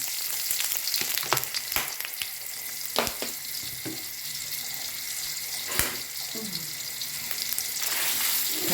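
Chili curry paste stir-frying in a pan for a pork and sweet potato coconut curry, a steady close sizzle broken by scraping stirs and occasional knocks.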